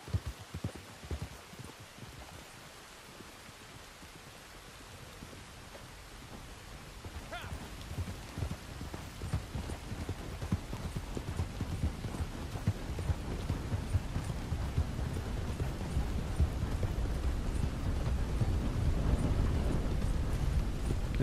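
Hooves of a Black Overo Mustang horse in Red Dead Online clatter in a steady clip-clop rhythm, starting quieter and growing louder and denser, mixed with a rain-like wash and low rumble.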